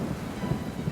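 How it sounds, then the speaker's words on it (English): Low, dim rumble of distant thunder rolling steadily with a soft rain-like hiss, no voices. "there came a dim rumble of thunder."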